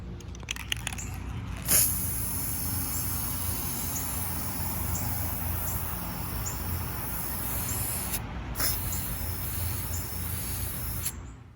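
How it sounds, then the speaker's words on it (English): A steady hiss of an aerosol spray can painting a bathroom light fixture runs almost continuously, broken by a couple of brief pauses and a few clicks. "I'm going to go ahead and spray paint this light fixture."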